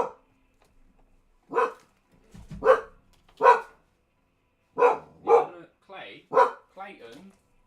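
A pet dog barks in short separate bursts, about eight clear barks spaced unevenly, close and fairly loud in an otherwise quiet room.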